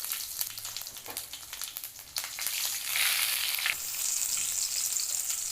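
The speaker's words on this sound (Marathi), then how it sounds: "आता हिरव्या मिरच्या टाकून घेते मी याच्यामध्ये" Green chillies and cumin seeds frying in hot oil for mutton biryani, a close crackling sizzle that swells sharply loud about halfway through and stays bright, with no voices.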